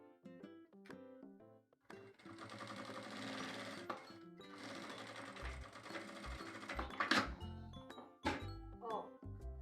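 Sewing machine stitching a fabric seam with gold bobbin thread, running in bursts of rapid mechanical clatter separated by short pauses and handling clicks, close and fairly quiet, with someone talking between bursts.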